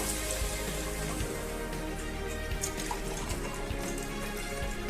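Water poured from a tumbler into a cooking pot while making veg pulao, a steady splashing stream that runs continuously and fairly close, with no talking.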